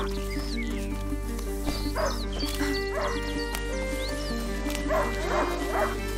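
Hunting dog barking inside the video game A Plague Tale: Innocence, several sharp yips and barks spaced across the scene over a steady low ambient game soundtrack and outdoor atmosphere.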